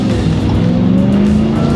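Supercharged 6.2-liter V8 of a Ram TRX Ignition Edition pickup rumbling steadily and loudly up close, a deep continuous engine drone with no talk over it.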